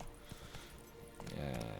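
Clip-clop hoofbeats of Roach, Geralt's horse in The Witcher 3: Wild Hunt, a quick steady rhythm of soft hooves at moderate distance, faint and brief with a slightly louder patch near the end.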